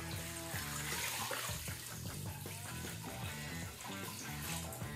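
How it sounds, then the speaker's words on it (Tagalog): Water poured from a container into a pressure cooker holding boiled beef bones for broth, a steady close splashing rush that lasts throughout, mixed with steady tonal background sound. "Lagyan natin ng tubig."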